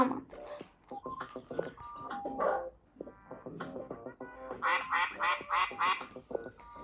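A duck quacks repeatedly in a quick run of nasal calls, close by, mixed with other animal noises earlier on.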